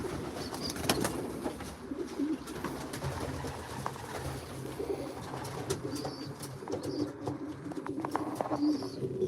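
Racing pigeons coo softly and steadily inside a loft, with continuous low cooing and faint shuffling and wing movement throughout, no one speaking.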